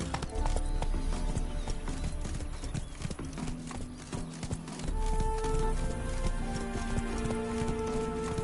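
Roach, the horse in the video game The Witcher 3, trots with a quick, steady clip-clop of hooves under game music, the hoofbeats fairly close and continuous.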